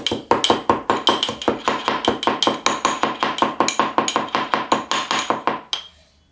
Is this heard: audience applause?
no